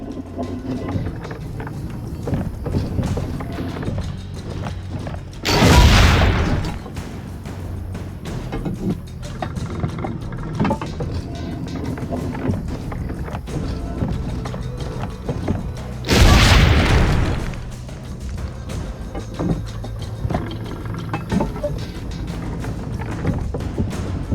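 Two loud cannon blasts in Assassin's Creed Brotherhood, each a heavy boom rolling out over a steady background of game ambience and machinery, about ten seconds apart.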